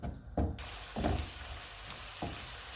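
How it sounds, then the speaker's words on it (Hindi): Onion-tomato masala with whisked yogurt frying over low to medium heat for egg curry, a soft, steady sizzle with a few dull stirring thumps at intervals, quiet and close. "इसको ऑयल अलग होने तक भूनेंगे"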